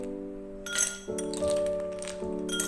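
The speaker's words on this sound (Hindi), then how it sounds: "गिलास में सबसे पहले मैं आइस क्यूब्स डालूंगी," Ice cubes dropped into two drinking glasses for watermelon sharbat, a few bright clinks and rattles close up with ringing glass tones over a quiet background.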